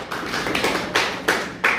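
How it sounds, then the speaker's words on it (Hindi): A few separate claps ring out in a classroom setting, four sharp, close hand strikes spaced unevenly over about two seconds. "ताली बजाओ"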